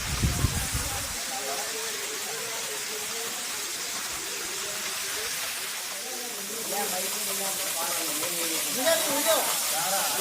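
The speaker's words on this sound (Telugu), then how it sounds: "రాతి కొండల మధ్య జాలువారే జలపాతం పాండవలంక ప్రకృతి అందాల అద్భుతం" Pandava Lanka waterfall near Peddapalli, flowing between rocky hills with low water, gives a steady broadband rush and hiss that holds throughout, brightening near the end, after a brief low rumble at the start.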